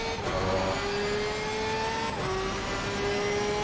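A Porsche race car engine in the video game Assetto Corsa Competizione drones at high revs, its pitch climbing steadily, dipping briefly at a gear change, then climbing again.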